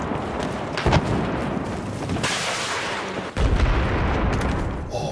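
Tank cannon shot and explosion in the video game Battlefield 4, with dense, loud rumbling blasts and a heavy boom that hits hard partway through, over continuous battle noise.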